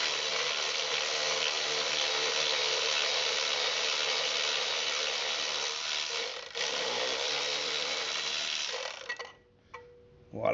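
A tool loosening a spark plug on a 2011 BMW 535i, heard as a steady, loud, whirring mechanical buzz lasting about nine seconds, then stopping with a few short clicks afterward.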